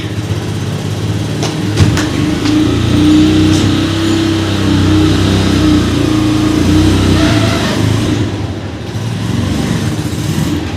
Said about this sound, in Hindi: वो गाड़ी बाहर निकालेंगे पापा, ये देखिए